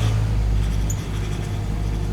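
A car engine idles with a steady, low droning hum and a persistent noise that bothers its owner and fades under harder acceleration. The drone stays constant and fairly loud throughout, with no talking.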